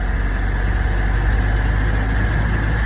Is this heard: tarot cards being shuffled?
no